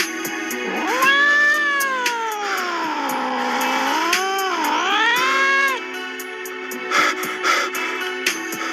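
A nearby cat gives one loud, wavering, stretched meow lasting several seconds, with pitch sliding up and down, then scattered light clicks and shuffles.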